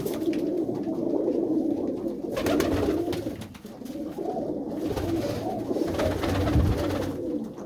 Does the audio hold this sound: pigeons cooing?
yes